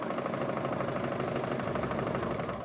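A serger sewing machine runs steadily while stitching a T-shirt, a close, continuous motor hum with a fast rhythmic mechanical chatter, fairly loud and uninterrupted, with no talking over it.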